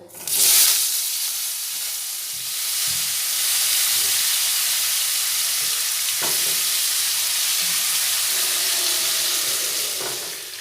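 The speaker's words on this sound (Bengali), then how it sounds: "এবারে এই আলুগুলি ওতে দিয়ে দেব" Large diced potatoes tumble into hot oil for a spicy Bengali chicken curry, setting off a loud, steady sizzle that holds for several seconds, with a few soft clinks of stirring.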